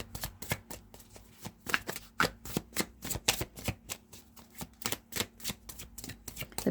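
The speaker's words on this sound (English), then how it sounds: "Okay, so I'm going to pull some tarot now." Tarot cards are shuffled by hand in a quick, steady run of papery riffling bursts, close and fairly quiet, with no talking.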